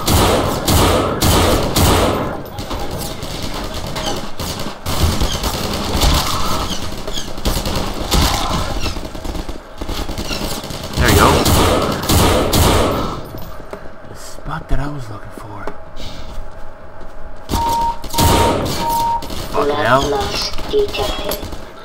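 Rapid semi-automatic rifle fire in Garry's Mod cracks out in dense volleys with heavy thuds and game noise, dropping to quieter stretches in the middle, while someone talks over much of it.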